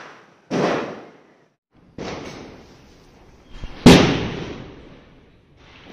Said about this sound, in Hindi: वहाँ आतिशबाजी शुरू हो गई है।